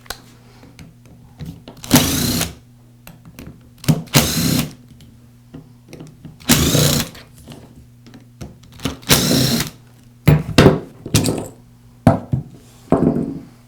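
Four gearbox housing screws coming out of a Makita angle grinder, likely with a small power driver: short whirring bursts repeat through the clip with quiet handling clicks between them, close up and with no voices.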